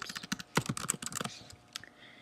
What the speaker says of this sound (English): I'm going to type Abraham Lincoln.